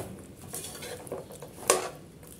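A utensil stirs popcorn into hot jaggery syrup in a pan, giving soft scraping and clinking of metal against the pan with one sharper knock near the end, faint and close.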